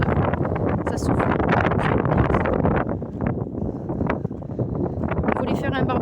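Gusty wind blows hard across the microphone, rumbling and surging, while a person talks over it.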